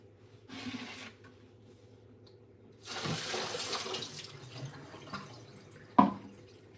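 Water runs from a tap in two bursts, a short trickle then a longer, louder gush, with a sharp clink near the end and quiet room tone between.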